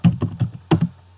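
Fingers tapping a computer keyboard at close range, a quick run of four keystrokes followed by two more after a short pause, dry and clicky with no voice.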